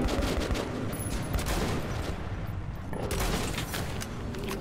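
Gunfire in the Metro 2033 Redux video game, a run of rapid, loud shots and bursts in close succession with brief pauses, heard alone without talk.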